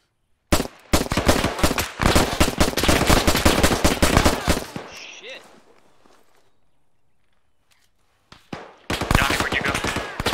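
Heavy machine gun firing in ArmA 3, a long loud rapid burst of evenly spaced shots, a fading tail into near silence, then another close burst starting at the end.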